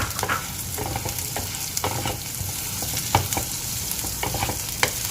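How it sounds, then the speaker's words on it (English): Garlic cloves and fried onion stirred in a hot pan for a curry, with a steady close sizzle and repeated scraping stirs and clinks of a utensil throughout. "Now the onion is fried, we can add the cloves of garlic."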